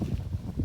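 Wind gusting steadily over an outdoor rice field during harvest, a low rushing roar with swelling gusts close to the microphone, no talk.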